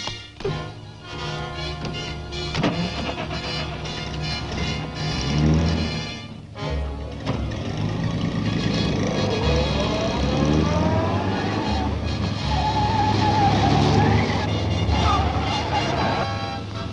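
A car pulls away in an old serial scene, its engine rising in a steady revving drone under dramatic orchestral music that plays throughout.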